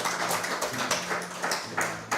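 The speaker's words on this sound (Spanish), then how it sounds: "si ese aplauso es para Dios, tienes que darle más fuerte" Church congregation applauding during a Spanish-language sermon, a steady round of clapping with crisp individual claps and a few louder bursts.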